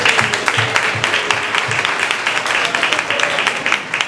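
Audience applause at a mayoral candidate forum for the LGBTQ community in San Antonio, a steady patter of many hands clapping throughout, fairly close and even in loudness.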